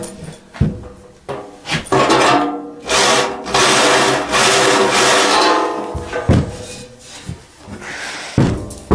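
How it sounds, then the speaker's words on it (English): Power drill boring holes in a CNC control box enclosure from the back side, with sustained loud whirring bursts broken by pauses and knocks, close up and without speech. "I drill out from the back side to get any burrs off."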